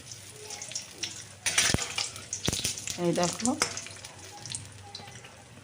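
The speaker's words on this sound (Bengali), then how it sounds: "এইভাবে আমি যে কটা বানিয়েছি আমি সব কটাই কিন্তু ভেজে নেবো" Oil sizzles and crackles steadily as yardlong bean fritters fry, with a few sharp clatters and a short spoken remark over the hiss.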